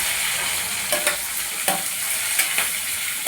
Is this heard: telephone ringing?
no